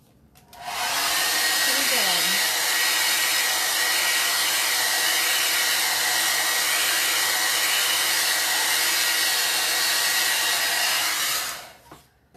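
A hair dryer blows a steady loud roar over a Chalk Couture pumpkin cutout craft piece for fall home decor, switching on after a moment and running continuously before cutting off near the end.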